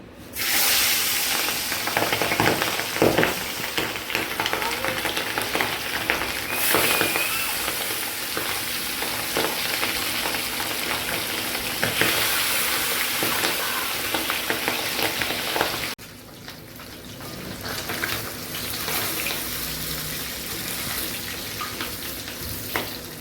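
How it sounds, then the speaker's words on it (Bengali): Papda fish fry in hot oil with a loud, dense hissing sizzle that crackles steadily and then drops to a softer, quieter fry for the last several seconds; no one speaks. "তেল গরম হয়ে গেছে, এখন আমি মাছগুলো ফ্রাই করে নেব।"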